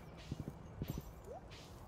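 Horse hooves clip-clop in a video game, quiet and distant: two quick triplets of soft thuds over a faint background.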